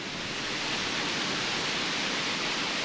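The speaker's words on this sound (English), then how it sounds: "this is just a view from a little bit further of the waterfall" A waterfall in British Columbia, heard from a little further off, makes a steady, broad rushing hiss with no breaks or voices.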